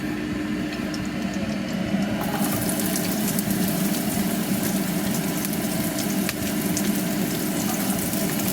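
Chopped garlic, red onion and ginger sautéing in a pot on the stove, a loud, continuous frying hiss that swells a little after the first couple of seconds, with no voices.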